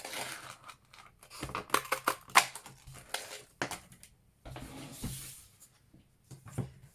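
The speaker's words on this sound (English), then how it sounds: "I'm just going to punch that out using the Starburst punch" Diamond glimmer paper punched out with a Starburst craft punch: a short run of close, crisp clicks and crunches, several sharp snaps clustered in the first few seconds with fainter rustles after, no talking.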